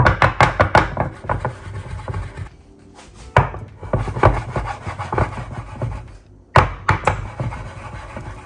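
Rapid bursts of scraping and rattling as a pan of sweet potato pudding is shaken against a hard surface, in short repeated flurries separated by brief pauses.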